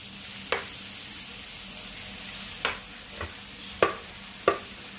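Mashed potato being stirred into softened sautéed onions in a pan, heard as a few sharp, separate scrapes and taps of a spoon against the pan over a faint, steady sizzle, with no talking.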